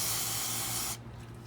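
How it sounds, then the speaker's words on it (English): Cleaner sprayed from a can onto the oil filter cover of a 2017 Honda CRF450R motorcycle: one steady, close hissing burst lasting about a second, then it cuts off, leaving a quiet room. "so we'll spray that down."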